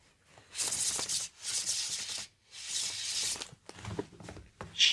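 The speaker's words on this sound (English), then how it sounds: "I just wanted you to see how beautifully they shuffle" A deck of tarot cards riffled and shuffled in repeated bursts of crisp flapping, with short pauses between each shuffle, close by.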